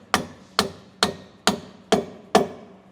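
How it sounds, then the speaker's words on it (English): A hammer tapping a half-inch bolt into a truck traction bar on a 2020-2026 Silverado/Sierra L5P, six sharp metallic taps in an even rhythm, close and clear with no talk. "so I'm going to finish tapping this thing home"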